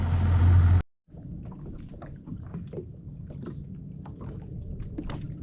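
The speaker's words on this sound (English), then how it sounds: "hopefully you can hear me over the two-stroke" A two-stroke outboard boat motor drones steadily at low pitch, with wind buffeting the microphone and water splashing; a brief loud burst opens before the engine noise settles.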